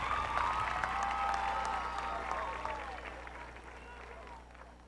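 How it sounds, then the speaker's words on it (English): Audience applause at a 2002 high school graduation ceremony for the valedictorian, a broad crowd clapping in a large hall that gradually fades over several seconds, with a faint low hum underneath. "Let's give him another hand of applause, please."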